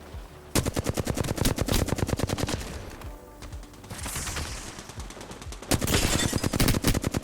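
Rapid automatic gunfire in the Apex Legends shooter, with long close bursts of evenly spaced shots, a brief lull with scattered distant fire and an explosion-like swell, then another loud burst.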